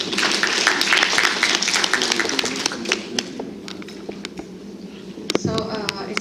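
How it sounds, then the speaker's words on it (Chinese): Students applaud at a university lecture in a hall, a dense patter of clapping that slowly thins out, followed by a few scattered claps and thumps. "同学掌声鼓励。"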